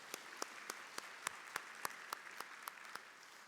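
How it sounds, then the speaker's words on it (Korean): A church congregation at a Sunday service clapping together in slow, even unison, about a dozen distinct claps spaced evenly, moderately close and without voices. "다시 박수하겠습니다."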